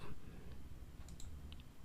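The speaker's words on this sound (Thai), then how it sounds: "เมื่อเราคลิกเมาส์ขวา ที่ property นะครับ" A few soft, sparse computer mouse clicks sound quietly while a Windows USB flash drive is being formatted at a PC.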